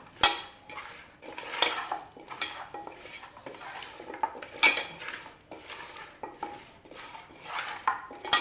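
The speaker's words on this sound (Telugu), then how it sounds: "ముందు మిక్స్ చేసేద్దాం. ఇవి బాగా కలవాలి కదా" A spoon scrapes and clinks against a metal pot while biryani ingredients are mixed, giving soft, irregular stirring strokes close by and fairly quiet, with no talking.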